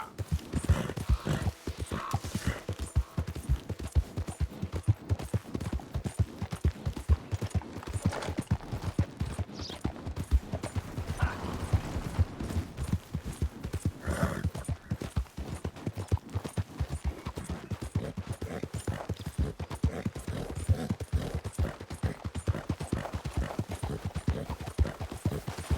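Horse hooves clip-clop steadily in Red Dead Redemption 2, a continuous rhythmic gait of fairly close, even beats that carries on throughout.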